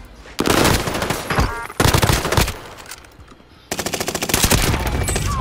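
Rapid bursts of automatic gunfire from a trio-squad shooter video game, several loud sustained volleys with short pauses between them, close and dense, with no talk over them.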